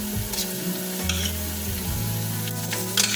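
Ginger garlic paste frying in oil with browned onions, a close, steady sizzle broken by stirring scrapes and spatula clatter, with no talking.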